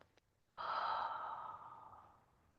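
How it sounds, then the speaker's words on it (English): A deep breath during a yoga breathing exercise, a brief inhale through the nose and then a long, slow, airy exhale through the mouth, close and alone. "let's take a deep inhale through the nose and a slow exhale through the mouth"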